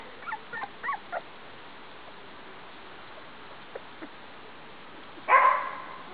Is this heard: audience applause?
no